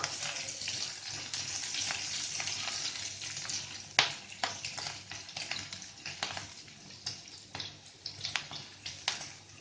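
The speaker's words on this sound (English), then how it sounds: "I'm going to add first the French beans because that takes a bit of time to cook." French beans stir-frying in a pan for keto zucchini hakka noodles, a quiet continuous sizzle broken by frequent sharp scraping and tossing clicks, close and unaccompanied by speech.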